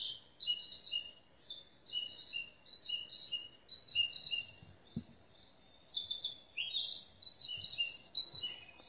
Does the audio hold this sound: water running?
no